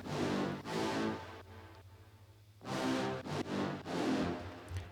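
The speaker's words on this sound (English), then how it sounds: "So this drop brass sounds like this" Drop brass layer in an electronic track, heard as stabbing synth-brass chords in short rhythmic bursts with gaps between, over a low sustained bass, fairly quiet and alone.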